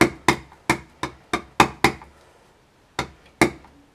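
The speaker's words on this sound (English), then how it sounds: "So just stamp that up" A rubber stamp with Crumb Cake ink pressed onto card, heard as about nine sharp, close knocks in an uneven rhythm, with a short pause before the last two.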